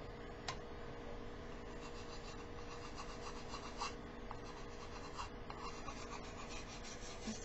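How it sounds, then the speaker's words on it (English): An emery board rubs and sands along the edges of a wooden wall decor piece, making faint, soft rasping strokes that repeat steadily at close range. "with my emery board, I'm just going to go around the edges and kind of sand down and expose some of the natural wood."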